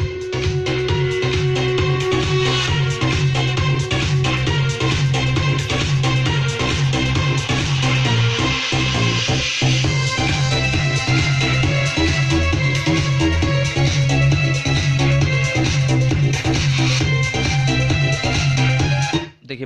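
A music loop plays from a phone through an aux cable, loud and continuous, with dense rhythmic beats and melody throughout before cutting off at the end.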